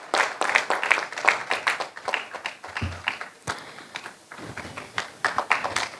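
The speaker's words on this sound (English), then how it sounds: "Everybody give a huge round of applause." Scattered, uneven clapping from a small audience at a conference, crisp individual claps coming in bursts over about six seconds, fairly sparse and moderately near.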